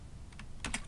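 Several quick computer keyboard keystrokes typed at a desk, a couple of light taps followed by a short louder cluster of key clicks, close up over a low steady background hum with no talking.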